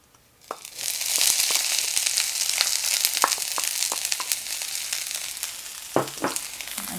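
Sweet onion fries loudly in a pot for creamy Thai rice soup, a dense, continuous sizzle with crackles and scraping stirs throughout, then a couple of heavier knocks near the end.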